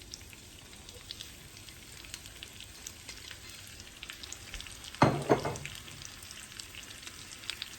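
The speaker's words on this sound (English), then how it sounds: "butter's melted, and I'm gonna go in with a large onion, just sliced thin. Just put it right in the pan." Thinly sliced large onion fries in melted butter in a pan, a faint steady crackling sizzle that flares into a brief loud burst as the slices hit the fat, then settles back to a low hiss, no voices.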